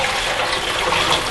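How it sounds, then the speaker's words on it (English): Hot tap water, not boiling, gushes from a bucket into the bowl of a slush machine being cleaned, a steady loud splashing rush with no break and no talk. "This is straight hot water out of the tap"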